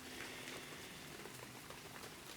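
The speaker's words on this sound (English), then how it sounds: "It's raining today," Rain falling outdoors on a model railway station area, heard as a faint, steady wash of fine patter with no distinct drops standing out.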